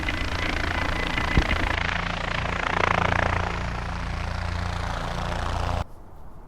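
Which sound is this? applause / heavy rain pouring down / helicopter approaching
helicopter approaching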